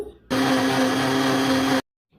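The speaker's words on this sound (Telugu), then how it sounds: "ఇప్పుడు దీనిపైన మూత పెట్టి మరొకసారి మిక్సీ అయితే వేసుకుందాము" A mixer grinder blending milk for a strawberry milkshake whirs loudly and steadily for about a second and a half, starting and stopping abruptly, close by with no voices.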